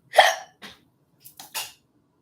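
A single close hiccup pops out, followed by a few softer breathy catches and a short burp-like sound, with no talking.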